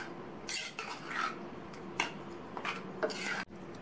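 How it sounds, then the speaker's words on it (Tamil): A utensil clinks and scrapes in a pot while tempering is stirred into snake gourd and moong dal kootu, several soft, irregular metallic taps and wet stirring sounds, quiet and close. "இந்த தாளிப்பை இந்த கூட்டில் சேர்த்துட்டு நல்லா ஒரு தடவை மிக்ஸ் பண்ணி விட்டுட்டு"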